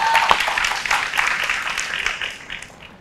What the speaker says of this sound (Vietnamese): Cho một tràng pháo tay hát lớn lên nha